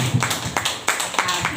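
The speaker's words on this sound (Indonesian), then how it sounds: "tepuk tangan untuk diri sendiri." Women in an audience clap sparsely and limply, a few scattered claps in a loose, uneven rhythm at moderate distance, with a faint murmur beneath.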